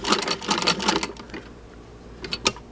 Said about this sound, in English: This is my 1588 by Singer